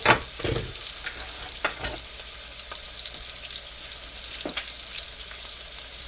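A T-bone steak fries in a pan with a loud, steady, close hiss of sizzling fat, punctuated by a few brief sharper crackles and thumps.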